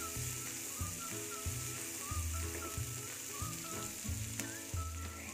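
Bay leaf, cinnamon and cardamom sizzle steadily in hot oil for a pigeon dish, a close, continuous frying hiss over a rhythmic low background beat, with no talking.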